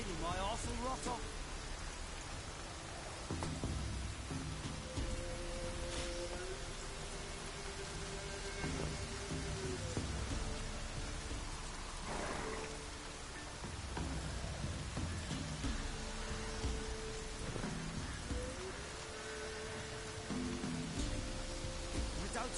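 Rain patters on and on in The Witcher video game, a steady hiss of droplets with soft tonal ambience and occasional voices layered beneath.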